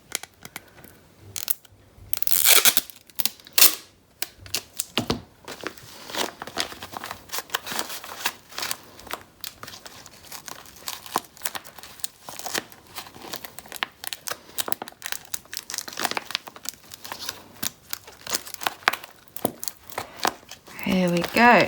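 Paper bags crinkled and crumpled by hand to stuff a paper squishy, with bursts of crackling and rustling throughout, sticky tape handling mixed in, and a voice speaking at times.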